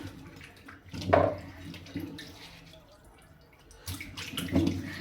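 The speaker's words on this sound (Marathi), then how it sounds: "मी सगळे नंतर कारले धुवून घेते" Tap water runs while bitter gourds that are several days old are washed in a home kitchen, with uneven splashing and sloshing swells. The water sounds close and moderately loud, with no speech.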